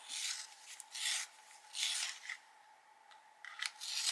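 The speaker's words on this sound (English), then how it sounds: "Just sharpening it." Soft, rhythmic rasping as an electric blue colored pencil is turned in a sharpener, in short repeated bursts that are close and fairly faint.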